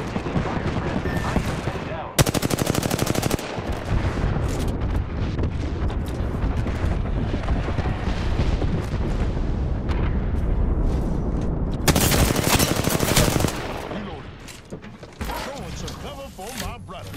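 Gunfire rattles through a first-person arena video game, with two dense, loud bursts of rapid automatic shots standing out from a steady backdrop of combat noise and effects.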